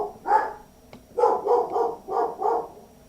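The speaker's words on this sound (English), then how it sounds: "Hold on one sec. I'm going to shut my dogs up." Pet dogs bark indoors, about five sharp, close barks: one alone, then a quick uneven burst of four, with no talking.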